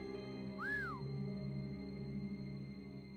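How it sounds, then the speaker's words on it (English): A single rising-and-falling whistle in Resident Evil 2, brief and clear over a steady low game hum, with no talking. "Just whistle at me?"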